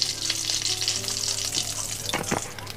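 Oil sizzling steadily in a pan while crab curry is being cooked, a continuous close hiss of frying with a couple of brief sharper pops near the end; no one speaks.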